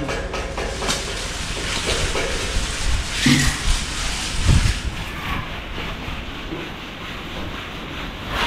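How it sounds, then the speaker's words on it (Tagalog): Wind-driven rain comes in gusts, a broad steady hiss that swells and eases, with a few brief knocks and thumps mid-way and no voices. "bumubugso-bugso yung ulan"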